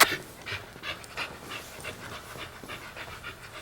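A dog pants close by in a quick, regular rhythm of short breathy huffs, soft and steady, with no voices.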